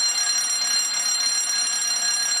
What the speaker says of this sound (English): How dare you pull the fire alarm!